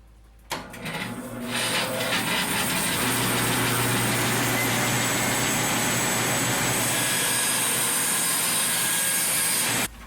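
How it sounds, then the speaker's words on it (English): A bandsaw with a 1 inch resaw blade cuts through lumber, starting up then grinding steadily and loudly through the board for about nine seconds before the cut ends abruptly. "Our cut is a little bit coarse, but that's just because we're running a 1 inch resaw."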